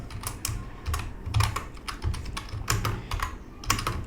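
Code is typed on a computer keyboard in quick, uneven bursts of close, clattering keystrokes, with no talking.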